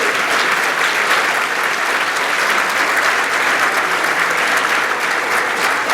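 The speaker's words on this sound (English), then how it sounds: "Please join me in a round of applause for the senior members of the men's soccer program." Steady, dense applause fills a senior student-athlete luncheon as the men's soccer seniors are honoured, a loud continuous wash of many hands clapping without break throughout.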